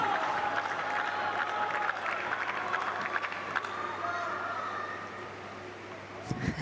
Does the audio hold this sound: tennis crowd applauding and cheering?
yes